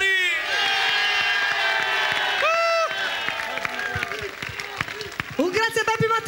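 Audience applause and cheering for a singer at a live show with a band, dense clapping from a crowd that fades out, with a sung or voiced tone briefly rising above it near the end.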